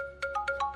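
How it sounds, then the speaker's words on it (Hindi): A phone ringtone chiming in a short run of bright electronic pulses, about five quick tones in under a second, clear and fairly close with no talking. "फोन तो उठा ले।"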